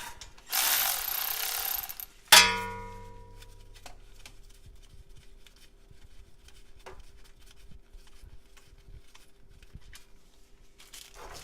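A ratchet working bolts loose on a GM 4L80E transmission: a burst of rapid clicking, then a sharp metallic clank that rings out, followed by faint scattered ticks and clicks in a quiet garage.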